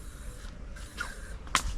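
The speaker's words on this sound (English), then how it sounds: "Gotta apply the bug spray." Bug spray released in a single quick hissing burst near the end, outdoors on a spearfishing trip in the Dry Tortugas, over a low steady background.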